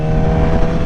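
A Yamaha R6 motorcycle engine revs hard while being ridden, producing a loud, steady, high-pitched mechanical whine with wind rush in one brief burst.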